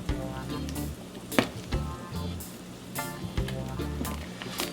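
Jamaican pumpkin soup boils in a pot on the stove, giving a steady, busy bubbling and sizzling hiss with occasional louder pops and stirring knocks, and no voices.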